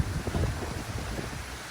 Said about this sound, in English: just as windy, if not more